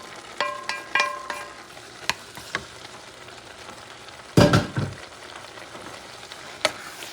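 Wild boar meat with some of its juices added to a pan and frying, a soft sizzle under several clinks and scrapes of stirring, with a louder burst as the meat goes in.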